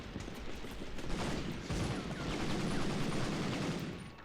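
Dense, rapid submachine gun fire from the PSOne game Medal of Honor rattles continuously as a close, loud burst-filled barrage lasting several seconds, with no talk over it.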